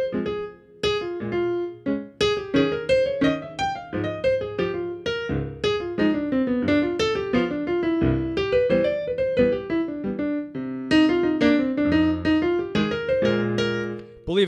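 A jazz piano solo over the changes of a jazz standard, single-note melodic lines built from chord tones and scales running steadily above sustained left-hand chords, with no pauses.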